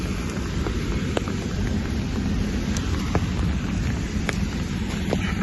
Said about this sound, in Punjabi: ਹਜੇ ਵੀ ਚੱਲ ਰਿਹਾ ਮੀਂਹ ਵਧੀਆ